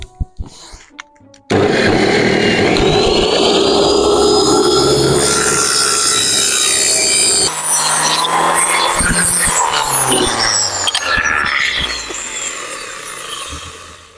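A circular saw in a home woodworking shop whines loudly and steadily for most of the stretch after a brief quieter start, its pitch shifting as it cuts, then slowly tapering off.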